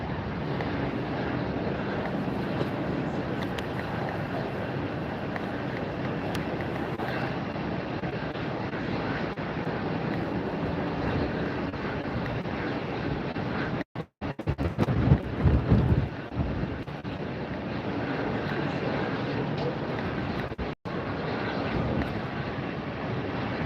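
A Breeze Airways airplane taxis at Tampa airport on a very windy day, a steady broad engine roar mixed with gusty wind buffeting, with a few sharp dropouts and rumbling bumps midway.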